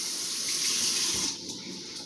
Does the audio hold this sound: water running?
yes